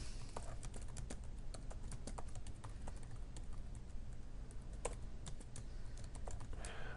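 Rapid, steady typing on a small computer keyboard, a dense run of light close-up key clicks with no pauses, over a low constant room hum.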